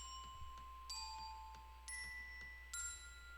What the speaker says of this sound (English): A nice sounding glockenspiel. I really like it.